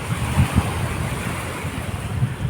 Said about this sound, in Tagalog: Talagang maririnig mo ang lagaslas ng alon na